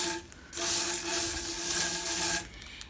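Steady rasping strokes of light hand sanding on wooden furniture, one long continuous rub after a short one, close and fairly loud.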